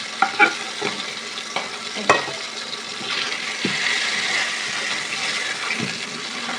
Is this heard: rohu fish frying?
yes